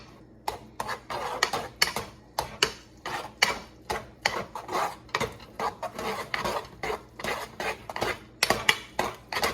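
A metal spoon stirring food in a hot pot, steady rhythmic clinks and scrapes against the pot, close and fairly loud, with no one speaking.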